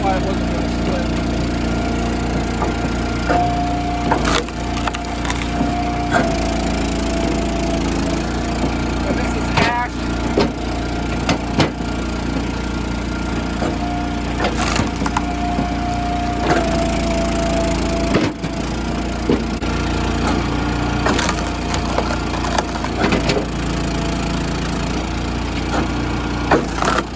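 Eastonmade Axis log splitter pressing into a curved, knotty log, its engine droning steadily while the wood creaks, cracks and splinters in repeated sharp bursts, with occasional talk over the machine.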